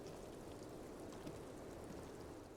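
Steady rainfall in the video game Disco Elysium, a soft continuous patter of drops on surfaces with a low rumbling bed, even and unbroken throughout, no voices.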